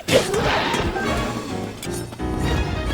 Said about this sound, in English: Funny little monkey noises.